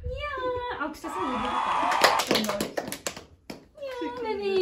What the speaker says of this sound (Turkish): Ya alkışlasana.